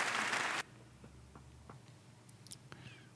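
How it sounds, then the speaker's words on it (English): A short burst of crowd applause in the video game Snooker 19 cuts off abruptly, leaving near silence broken by a few faint, scattered clicks. "Cut out the applause noise"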